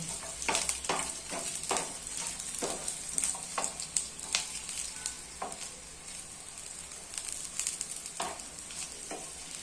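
Peeled garlic cloves sauté lightly in a pan, giving a steady close sizzle and frying crackle with repeated stirring scrapes throughout.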